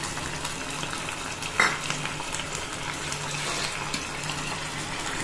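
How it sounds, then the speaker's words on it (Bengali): Milk poured into sizzling spiced masala for a potol curry gives a strong, continuous frying hiss with a watery gushing quality and a brief sharp clink early on. No one speaks over it. "এবার আমি এখানে এই যে এই দুধটা আমি দিয়ে দিচ্ছি।"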